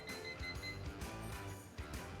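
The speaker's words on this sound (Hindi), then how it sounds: "टाइमर से टाइम लगाएंगे" Electronic timer being set before a ten-minute melting step during jewelry hallmarking, giving a rapid series of repeated beeps close by with no voices.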